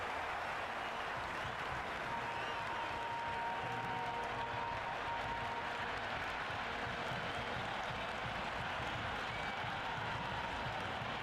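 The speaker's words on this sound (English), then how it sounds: "The crowd are really getting quite raucous." Crowd noise from a simulated cricket match in the Cricket 26 video game, a dense, steady roar of cheering and applause that stays loud and continuous throughout, with no voices standing out.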